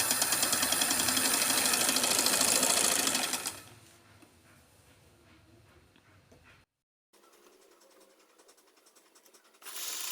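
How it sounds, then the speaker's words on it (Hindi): A sewing machine stitches pleats on a kurti, a loud steady whirring run for about three seconds, then quieter handling noises, a brief silence and the machine starting again at the end. "तो बस इसी के साथ साथ मैं सिलाई लगाती जाऊंगी और चेक करती जाऊंगी"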